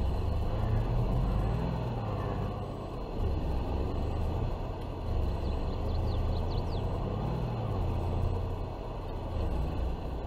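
A farm vehicle drives along a main road in Farming Simulator 22 on a Pacific Northwest map, a steady low engine rumble with tyre noise, continuous and fairly loud, no talking.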